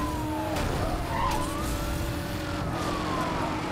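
Racing-game engine audio of a Mazda RX-8 in Need for Speed: Hot Pursuit Remastered, a steady loud drone with rising and falling engine pitch, tire skids and police sirens mixed in throughout.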